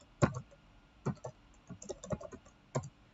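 A password is typed on a computer keyboard: a quiet, sparse string of separate key clicks over about three seconds, with no voices.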